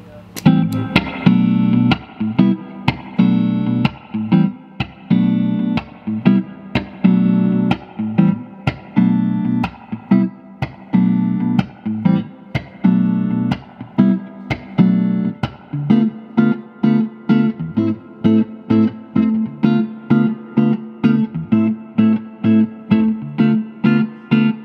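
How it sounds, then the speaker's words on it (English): A 1962 Fender Stratocaster on its neck pickup played through a Fender Super Reverb amp with a warm, round tone, steady rhythmic strums and chords running throughout, loud and close. "We're going through a Fender Super Reverb, starting off on that neck pickup."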